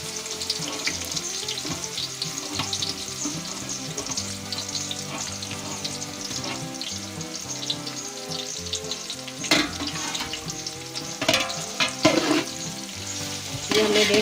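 Onions fry in hot ghee in a large pot for vegetable biryani, giving a dense, steady crackling sizzle with stirring scrapes and a few sharper clatters toward the end, close and without speech.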